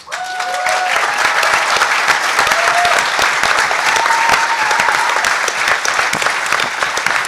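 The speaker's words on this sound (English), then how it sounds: "For those of you who don't know why they're applauding" Sustained audience applause at a hacker conference session on social engineering, many hands clapping loudly and steadily throughout, with faint whistle-like tones sounding briefly over the crowd.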